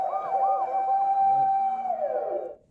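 A voice imitates a wailing siren, sliding up and down in looping sweeps before a long steady tone that drops off at the end, clear and close with no talk over it.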